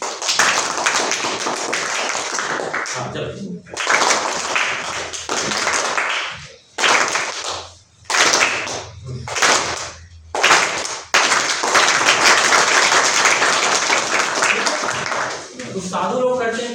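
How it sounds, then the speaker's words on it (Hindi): Children in a classroom clapping their hands together in loud, sharp bursts, with several sustained rounds broken up by brief pauses while a teacher's voice talks in between. "एक आप लोगों को स्पेशल टाइप का ताली बजवाता हूँ"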